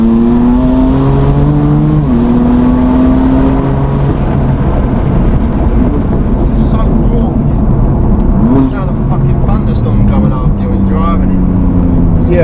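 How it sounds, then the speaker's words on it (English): A tuned 650 bhp BMW M4 CS lets out sharp exhaust pops and crackles on deceleration after a loud engine drone, with people talking over it. "Deceleration, man, it sounds insane as well. Sounds like fucking AK's coming out of the up."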